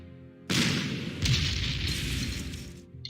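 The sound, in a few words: artillery fire in video game Panzer Corps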